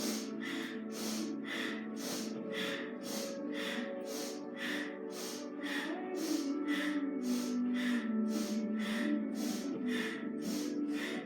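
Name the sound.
rapid yoga breathing, inhaling and exhaling quickly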